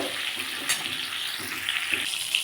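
Ridge gourd and eggplant frying in hot oil, a soft, steady sizzle with a few faint stirring clicks, no voices.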